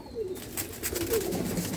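Pigeons softly cooing inside a coop holding red and white birds, a few low murmuring coos close by with faint chirps over steady background noise.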